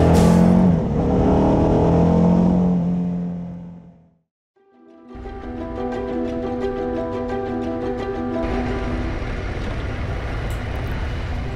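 A motorcycle rides along roads in Luxembourg, its engine droning with a rising, falling pitch, dropping briefly to near silence midway before a steady, harmonic-rich engine tone returns and holds, close and loud.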